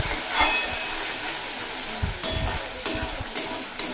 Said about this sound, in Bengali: দিয়ে খুব ভালোভাবে মশলাটা কষিয়ে নেব